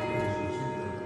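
A bell at Calella lighthouse rings with a steady sustained metallic tone and layered overtones, loud and close, with no talking over it.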